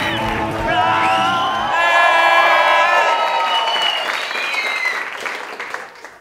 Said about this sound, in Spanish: Reciban desde Medellín, por favor, con un fuerte aplauso a Frank Martínez, el Flaco.